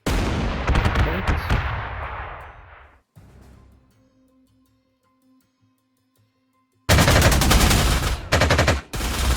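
Artillery return fire in the Panzer Corps 2 war strategy game: a loud blast with dense rumbling fire that fades out, a quiet pause with faint tones, then another abrupt heavy barrage.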